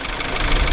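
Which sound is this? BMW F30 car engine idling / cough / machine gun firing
BMW F30 car engine idling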